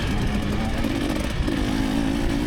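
A 2024 KTM 300 XCW dirt bike engine, its two-stroke drone running steady and loud with a slight rise in pitch midway, close up under riding noise.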